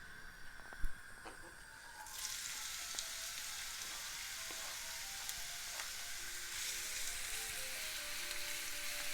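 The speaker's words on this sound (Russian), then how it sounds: "И теперь выкладываю в нагретое масло нарезанную кубиком луковицу." Diced onion drops into hot oil and a loud, steady sizzle starts and keeps going, with a few faint clinks before it begins.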